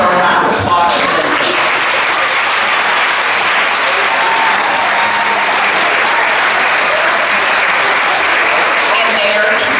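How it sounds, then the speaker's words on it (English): A dinner audience at an award ceremony gives loud, sustained applause that fills the room steadily for about ten seconds, with a bit of speech at the start. "So please, let's give her a round of applause."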